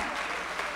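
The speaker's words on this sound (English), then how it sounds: "Let's give God a great big hand clap." Funeral congregation at a homegoing service clapping their hands together, a dense steady wash of applause filling the room without pause.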